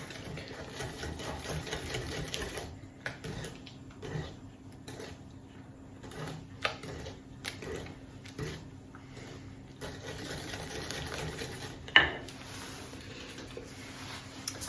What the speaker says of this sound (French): j'ajoute 250 g de mascarpone. Et je vais mélanger toujours au fouet.